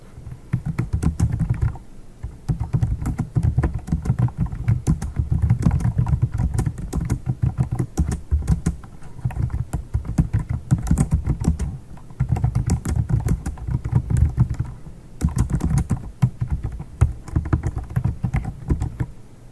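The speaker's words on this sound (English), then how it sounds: "You could type this information here." Continuous rapid keystrokes on a computer keyboard while entering details into an online writing portal, close and steady with brief pauses, no talk.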